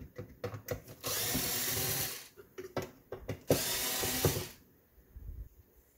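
A power drill backs out the bottom screws of a Xantrex HFS2055 charger in several bursts, short whirring pulses and longer sustained runs, close and loud, followed by a quieter pause with light handling.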